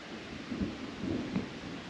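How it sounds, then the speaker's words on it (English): Distant thunder rumbles low and soft on the Colorado Trail during monsoon weather, a couple of faint rolling swells with light rustle and rain-like hiss around them. "Thunder might be starting, I think."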